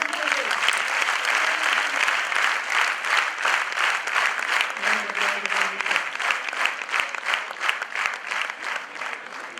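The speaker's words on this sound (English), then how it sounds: "Please encourage them with a big clap." An audience at a time-management talk claps loudly and steadily for several seconds, a dense, even applause that tapers slightly toward the end without any speech over it.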